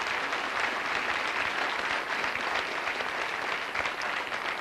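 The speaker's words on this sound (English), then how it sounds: "If you could give them another round of applause." Sustained audience applause at a county college event with a New Jersey governor, steady dense clapping from a crowd throughout, no voices standing out.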